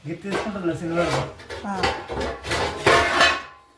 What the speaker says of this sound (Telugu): ఆ గిన్నె తీసుకున్నాను ఇప్పుడు ఆ గిన్నె తీసుకో